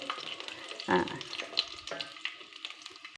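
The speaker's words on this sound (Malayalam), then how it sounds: "ഇഞ്ചിയും വെളുത്തുള്ളിയും കൂടെ എണ്ണയ്ക്കകത്തിട്ട് ചെറുതായിട്ട് അരിഞ്ഞിട്ടിട്ടാൽ കൂടെ പെട്ടെന്ന് മൂക്കും" Finely chopped garlic and ginger fry in hot oil with a soft, steady sizzle, stirred now and then, giving brief louder crackles.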